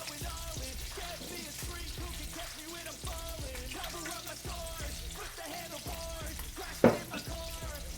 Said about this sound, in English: now we stir in the milk